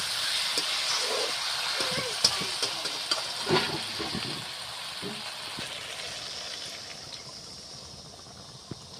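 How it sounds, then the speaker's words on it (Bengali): Gravy liquid poured into a pan of frying potol (pointed gourd) curry, a hissing, bubbling sizzle with scattered clatter that slowly fades. "এখন আমি ঝোলটা দেবো"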